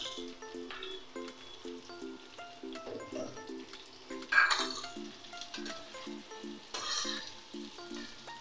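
Stalk potatoes and onions sizzle and fry in hot oil for a Bengali katla fish curry, with a steady crackle, intermittent stirring and clinks of a utensil against the pan.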